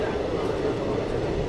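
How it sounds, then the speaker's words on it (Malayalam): Steady rumbling rail noise fills Kovilpatti railway station, a continuous loud drone of a train with no distinct clacks. "കാണുന്നതാണ് കോയിൽപ്പെട്ടി റെയിൽവേ സ്റ്റേഷൻ"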